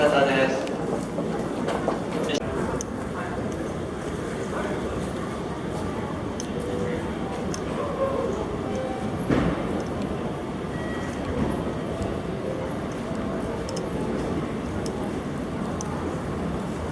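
A train pulls into Niigata station, a steady rumble and rattle of railcars with occasional clanks, heard from on board, while a voice speaks over it.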